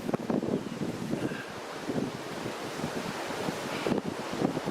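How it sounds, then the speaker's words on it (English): Strong outdoor wind gusting hard against the microphone, a loud rumbling roar that surges and buffets unevenly throughout, with no voices. "Wow, that wind is really kicking up."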